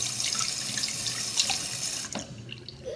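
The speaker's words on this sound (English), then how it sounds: "I'm just going to wash my hands real quick." Tap water runs steadily into a sink as hands are washed, a hissing, splashing stream that cuts off near the end, leaving a few faint drips.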